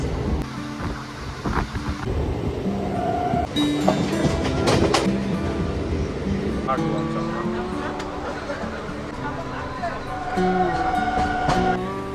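A local train bound for Namkhana sits at a busy platform: rumbling carriages and clattering wheels mix with station bustle, and people talk throughout.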